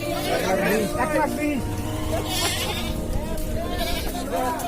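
Goats bleat several times at a crowded Eid livestock market in Uttara, their cries rising over loud, continuous crowd chatter and nearby bargaining voices.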